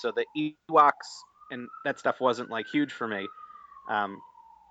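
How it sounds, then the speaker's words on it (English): A police siren wails outside, a long rising and falling tone running steadily beneath someone talking continuously over it. "Apologize for the siren."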